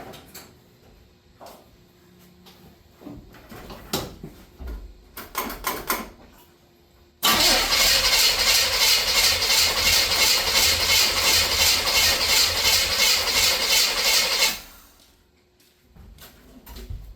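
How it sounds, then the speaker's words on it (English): A hearse with a 454 engine is heard after some clunks and rattles, then a loud, sustained mechanical roar that runs steadily for several seconds before cutting off abruptly. "Alright, first start up in the car."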